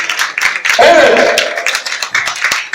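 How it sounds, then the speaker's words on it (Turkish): Audience at a school year-end show clapping in scattered bursts, with a child's or adult's voice rising briefly over the claps. "Kocaman bir alkış alıyoruz."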